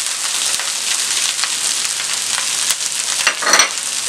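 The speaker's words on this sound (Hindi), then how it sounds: "कम ऑयल में भूनना है और मेहनत करके आपने इसको भूनना है" Chicken kachori filling with coriander and green chillies fries in a little oil in a pan, a dense, continuous sizzle with occasional louder crackles, close and without talk.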